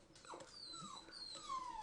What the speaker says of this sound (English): My dog is crying because my girlfriend just left the house